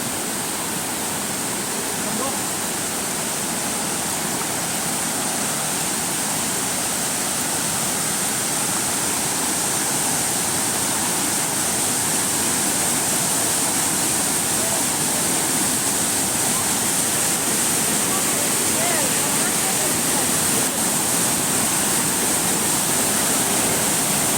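Steady roar of a waterfall in flood at Pradhanpat, Deogarh district, Odisha, loud and continuous throughout with no breaks, a dense hiss of rushing water filling the whole scene.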